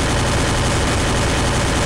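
Dense, continuous automatic gunfire from the mobile shooter Free Fire, a loud unbroken rattle of shots filling the whole moment with no pauses.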